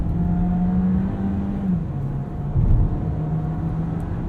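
A VW Taos car drives through a roundabout with stability control engaged. A steady engine hum and road noise hold throughout, with a slight rise in engine note partway through, and no talk.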